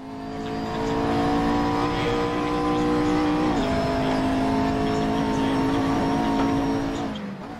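McLaren 650S GT3 racing around the Zandvoort circuit in the Netherlands in a racing video game, its engine droning loudly and steadily with shifting pitch, a brief dip mid-lap, then fading at the end.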